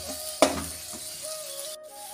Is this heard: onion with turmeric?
yes